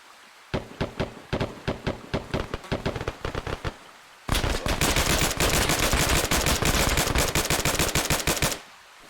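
ARMA 3 combat gunfire: about three seconds of rapid, evenly spaced shots, a short pause, then a loud, dense, sustained burst of automatic fire that cuts off abruptly.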